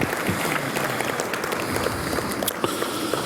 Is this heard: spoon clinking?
no